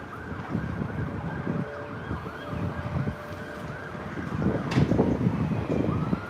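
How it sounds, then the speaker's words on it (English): Emergency vehicle sirens wail past outdoors near a speedway in Cleveland, mid-distance and partly masked by wind buffeting the microphone, swelling slightly louder near the end. "I hear sirens."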